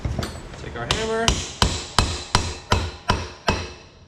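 A hammer strikes a pry bar wedged behind a part to work it loose: about nine sharp metallic taps, close and steady, spaced roughly every third of a second.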